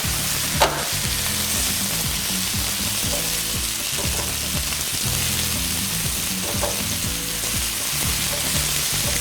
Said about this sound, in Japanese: 豆板醤を入れて、またさらに炒めて風味を出してください。